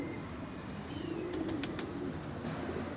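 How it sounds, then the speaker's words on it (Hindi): A male Kamagar pigeon coos nearby in low, rolling phrases over a steady background hum, with a few faint higher chirps and no talking. "ये मेल है, इसकी आंख देखें,"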